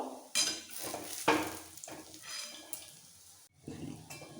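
Matar dal (split pea) fritters frying crisp in oil in a kadai over a medium-low gas flame, a steady close sizzle broken by sharp clatters of a utensil stirring and turning them.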